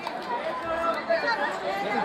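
A busy crowd mills around near the Jejuri temple, many overlapping voices chattering at a moderate distance in a continuous, lively murmur.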